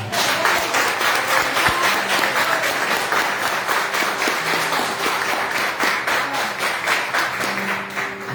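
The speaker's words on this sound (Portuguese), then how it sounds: "Vamos dar uma salva de palmas para Jesus, irmão?" Church congregation at a Baptist service applauds in a sustained, dense wave of clapping that fills the room, steady and loud throughout with faint tonal sounds beneath.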